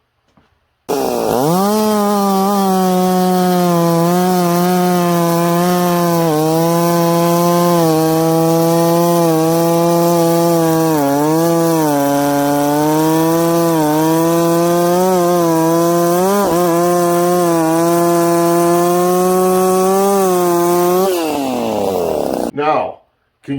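A ported 66cc chainsaw cuts through wood at full throttle, a loud sustained buzzing whine held for about twenty seconds with slight pitch wavers under load before it drops off.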